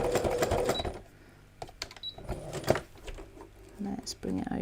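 A sewing machine stitches through card in short bursts, its rapid mechanical whirring starting and stopping between pauses, close and fairly loud, with a person talking in between.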